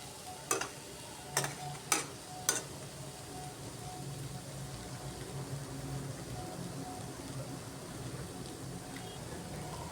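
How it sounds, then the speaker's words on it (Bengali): Softened radish leaves and small fish frying in a pan for a chochchori, opening with four sharp spoon knocks against the pan, then a low, steady sizzle and gentle stirring rustle for the rest. "এগুলাকে নাড়িয়ে একটু ভাজা ভাজা করে নিচ্ছি"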